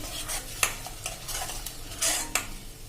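Bottle gourd cooks with tomato and carrot in a pan, stirred with a utensil in quick scraping strokes and clinks over a soft sizzle, close and without speech.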